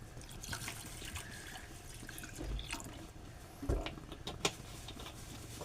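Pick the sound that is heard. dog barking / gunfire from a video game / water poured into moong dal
water poured into moong dal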